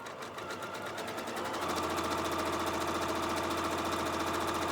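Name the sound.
Janome sewing machine with circular attachment speeding up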